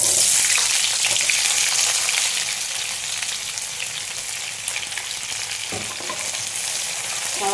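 Onion sizzling in a pan with ginger and garlic, a steady close crackling fry with an occasional stirring scrape and no voices.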